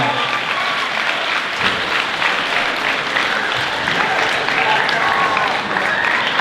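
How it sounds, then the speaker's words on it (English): Sustained applause fills a school student recognition assembly, a steady dense wash of clapping from a large audience at even loudness throughout, with no pauses. "Huge round of applause for Mrs. Dagmar."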